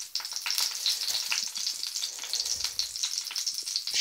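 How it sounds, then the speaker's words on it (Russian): Boiled potatoes with onion and spices sizzle and crackle steadily in a frying pan, a dense continuous fry heard close up with no talking. "Сейчас я снимаю кожуру и ее ставлю на сковороду."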